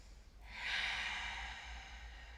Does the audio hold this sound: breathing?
yes